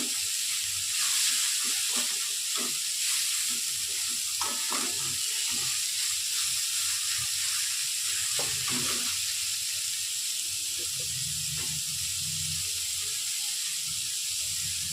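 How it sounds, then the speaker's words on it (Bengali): Soybean chunks stirred and fried in a pan, a steady close sizzle running throughout with scattered scraping and clinking of the spoon against the pan. "এবার সয়াবিনগুলো ভালো করে মিশিয়ে নিচ্ছি।"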